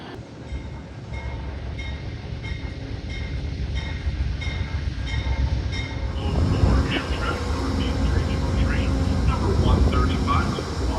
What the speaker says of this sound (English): And here comes our train. Leading us down to Philadelphia today is ACS 64, number 658.